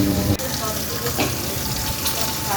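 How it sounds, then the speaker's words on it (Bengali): Koi fish frying in a pan of hot oil, a loud, steady, close sizzle with crackling spatter running throughout and a brief dip early on. "এরপর মাছগুলো এপিট এপিট করে সুন্দর সোনালি করে ভেজে নেব।"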